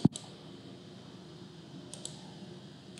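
A single close computer mouse click at the start, followed by a couple of faint clicks over quiet room hum.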